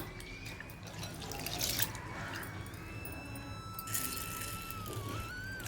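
Soaked moong dal and sago being washed by hand in water, giving soft continuous sloshing and trickling with small drips and swishes, close but quiet.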